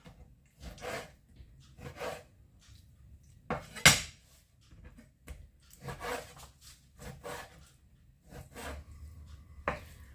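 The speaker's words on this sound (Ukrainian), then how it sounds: "Зараз просто нарізаю невеличкими шматочки, так як на фарш." A knife cuts meat into small pieces and taps against a board in irregular strokes, with occasional clinks of utensils, close and moderately quiet with no talking.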